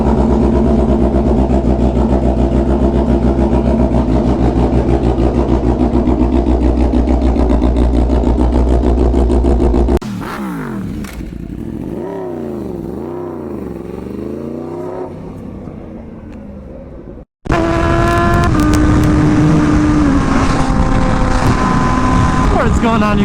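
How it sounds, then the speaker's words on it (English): A Honda Fireblade RRR SP motorcycle engine runs loud and close with a deep, steady drone, then revs in a run of rising and falling sweeps, cuts out briefly, and roars back at full volume. "this bike is loud and obnoxious"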